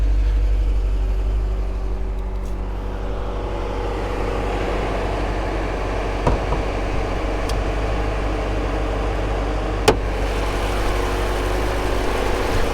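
A stock 6.4 liter Hemi V8 in a 2016 Jeep Grand Cherokee SRT idles steadily with a deep, continuous rumble, loud and close, with a couple of brief clicks over the constant drone.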